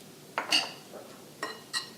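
Vegetables are stirred in a pot for a healthy budget meal, with a spoon giving a few scattered metallic clinks and scrapes against the pot over a quiet kitchen background.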